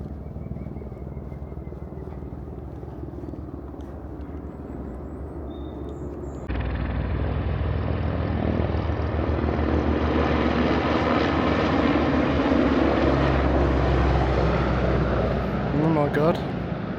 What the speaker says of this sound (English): That looked like some kind of military helicopter or something.